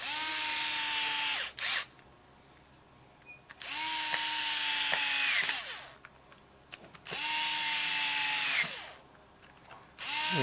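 Cordless power driver spinning screws back into the body of an Oster hair clipper, three whirring bursts of about two seconds each with short pauses between, close and clear with no talking.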